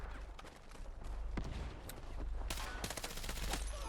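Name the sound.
gunfire in video game Battlefield 6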